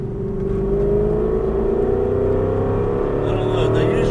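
An Aston Martin V8 Vantage engine holds a steady, loud drone while throttling through a turn on a track, its pitch rising gradually as the car accelerates, with a voice talking over it.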